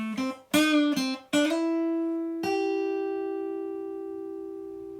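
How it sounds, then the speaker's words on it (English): Acoustic guitar from a song's solo: a few plucked notes slide up in pitch, then one sustained note rings out and slowly fades, played alone and close. "which are all slides on the acoustic guitar."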